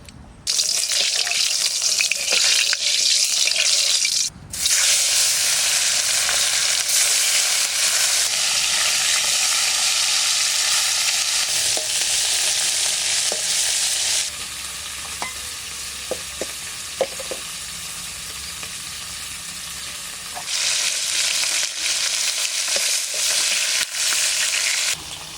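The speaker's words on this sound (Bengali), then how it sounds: "এবার মাছগুলো ভেজে নেব" Pomfret fish frying in hot mustard oil, a steady loud broadband sizzle that holds for the whole stretch, dipping briefly and shifting in texture with a few soft clinks and scrapes midway.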